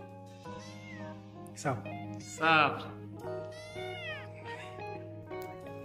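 A pet cat meows several times, close and clear, with a louder drawn-out meow in the middle, while a person talks in Turkish around it.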